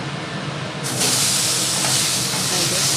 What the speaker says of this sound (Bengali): এখনই আমড়াগুলো দিয়ে দেওয়া হবে